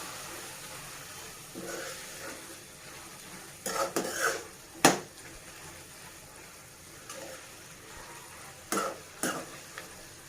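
Tomato pachadi with turmeric and cumin stirred in a pan, heard as a soft background sizzle with a few bursts of scraping and clinking utensil strokes against the pan, close and without talk.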